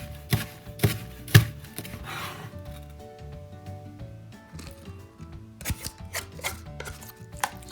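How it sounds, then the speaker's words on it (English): A knife chops through a split scallion on a board, a few loud thuds first, then a quieter stretch and a faster run of crisp cuts, close and without talk. "Split, slide together, and chop."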